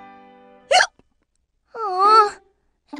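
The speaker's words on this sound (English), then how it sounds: "I don't think my hiccups are the kind that get scared away" A cartoon child's hiccups: one sharp hiccup, then a wavering, drawn-out voiced hiccup-like sound after a pause, with another starting at the end, close and clear against otherwise quiet background.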